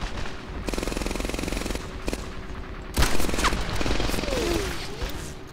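Gunfire in Medal of Honor: Airborne, with a sustained burst of automatic fire, a lull, then a sharp louder shot followed by more rattling fire and whizzing sounds, with no talking.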